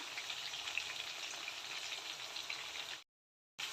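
Kerala style mackerel (ayala) fries in a pan with a steady, soft crackling sizzle that stops abruptly for a moment near the end before resuming.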